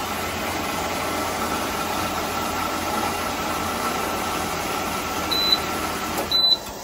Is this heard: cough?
no